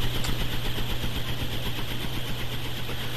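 An airplane fan runs with a continuous, close mechanical drone, a strong low hum under an airy rushing wash that stays steady and loud throughout.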